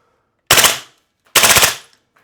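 Two loud, close full-auto bursts from an EMG CGS DDM4 PDW airsoft gun, each about a fifth of a second of rapid sharp cracks, separated by a short pause.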